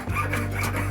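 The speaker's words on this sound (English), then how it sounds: "I love these little saws." A small hand saw rasps through wood in a steady back-and-forth stroke, a close, fairly loud scraping with a rough, gritty texture and no voices.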